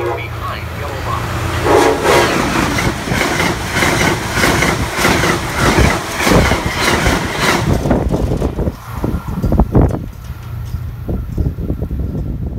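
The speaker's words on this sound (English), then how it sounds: "Train approaching. Please remain behind yellow line." Train pulling into Canton Junction station on the railroad, a loud, steady rumble of wheels and engine with rhythmic clatter of cars passing close, continuous throughout and fading slightly toward the end.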